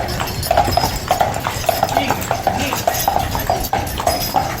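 Steady clip-clop of horse-drawn taxi hooves on a hard street, a regular rhythm of hoofbeats close by with faint background noise.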